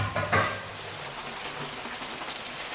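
Continuous heavy rain falling, a steady broadband wash of drops with a few sharper close splashes and knocks near the start.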